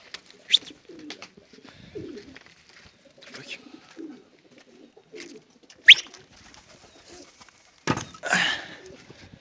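Pigeons in a new coop coo softly and flutter, with scattered calls, wing claps and brief rustles spread unevenly over the stretch, fairly close, amid faint background noise.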